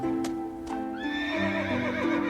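A snow-white horse gives a loud, close, high whinny that rises and wavers, with a couple of hoof clip-clops just before it and no talk.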